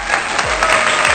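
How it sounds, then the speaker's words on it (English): Audience at a national teaching excellence awards ceremony clapping in a sustained round of applause, a dense, even patter of many hands close by, with a few faint low thumps underneath and no speech. "I request all the participants a round of applause to Ms."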